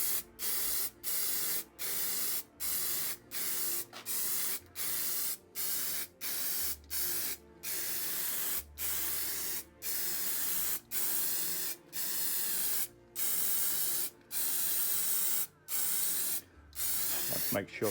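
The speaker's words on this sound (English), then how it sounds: "So I've already been shaking this for a minute or so, and I'm just going to apply it to the two surfaces now." Aerosol spray can misting onto tile surfaces in repeated short bursts, roughly a dozen loud hissing blasts separated by brief pauses, close up, with faint low talking underneath.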